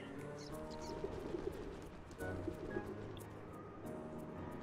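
Pigeons coo in soft, repeated rolling phrases in the Sly 2: Band of Thieves video game, low and steady over a continuous ambient game backdrop with a few faint higher chirps.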